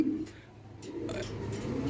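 Soft, low pigeon coos repeat in a few short phrases, nearby and fairly quiet, with no talking.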